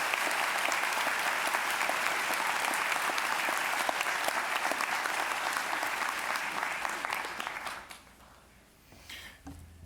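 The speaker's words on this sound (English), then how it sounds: "could we please have another round of applause for the class of 2018?" Audience at the Lebanon High School class of 2018 graduation ceremony breaks into sustained, loud applause from a large crowd, holding steady for about eight seconds before trailing off into scattered claps and room noise.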